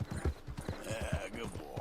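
Horse hooves clop in Red Dead Redemption 2, a quick, close, regular beat of hoofbeats over a short stretch with some faint background sound.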